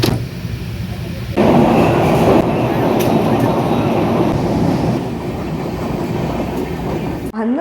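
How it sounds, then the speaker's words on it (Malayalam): A passenger train rolls along the rails after leaving Shoranur railway station in India, a steady loud rumble that swells after the first second and holds to the end, with faint rhythmic clatter. "ഞങ്ങൾ ഷൊർണൂർ റെയിൽവേ സ്റ്റേഷനിൽ നിന്ന് ട്രെയിൻ കയറി"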